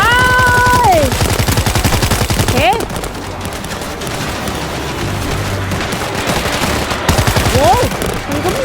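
Rapid automatic gunfire and explosions from the zombie shooter World War Z Aftermath, set on the Marseille Last Bastion level, rattling loudly and steadily with bursts and booms throughout, without talk over it.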